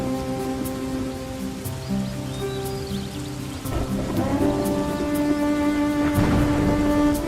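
Steady heavy rain pours down through an animated story, a dense, unbroken wash of noise with musical tones layered over it, the downpour holding at a constant level throughout with no voices.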